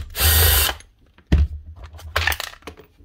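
A power driver backing screws out of a Makita DUH502 18V cordless hedge trimmer: three short close whirring bursts separated by brief pauses, with small clicks of parts in between.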